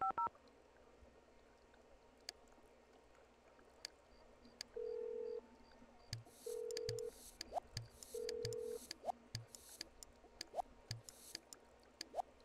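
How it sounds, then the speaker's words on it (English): Telephone dialing in The Sims 1 computer game: three short, steady electronic beeps spaced about a second and a half apart, set among faint clicks and soft background game sounds. "Call your other friend on the phone"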